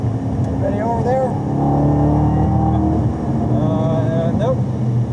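A race car drives on the track at Daytona International Speedway, its engine a steady droning rumble with pitch rises as it revs, while people talk over it inside the car.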